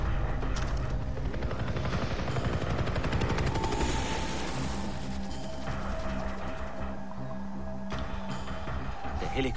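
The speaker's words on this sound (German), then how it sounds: "Helikopter, da haben sie sicher die anderen Krieger hingebracht." Helicopter rotor thump drones steadily through the Far Cry 3 game soundscape, with scattered rapid gunfire-like rattles in the mix.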